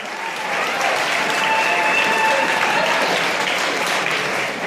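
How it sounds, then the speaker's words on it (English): Guests at a wedding reception break into loud, sustained applause, a thick continuous wash of clapping that swells in quickly and holds steady before easing slightly at the end. "Big round of applause for David Martin, ladies and gentlemen."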